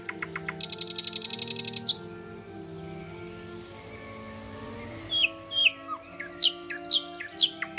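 A nightingale sings varied song with a rapid trill early on, then a pause and a series of separate whistled phrases, clear and close.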